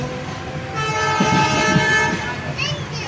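Vande Bharat Express train on the Mumbai CSMT to Solapur route sounds a long, loud horn blast at a platform, with a rumbling engine and rail noise underneath and people talking nearby.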